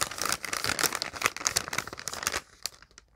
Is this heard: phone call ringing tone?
no